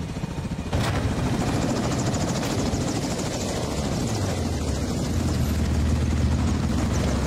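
A helicopter in a video game, its rotor beating loud and steady throughout after a brief quieter opening, with the engine drone shifting slightly as it goes.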